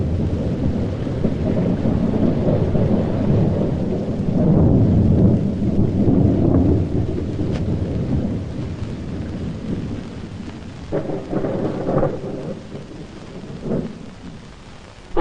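Heavy rain pours steadily while thunder rumbles deep and long, rolling louder near the middle and easing off toward the end, with no voices.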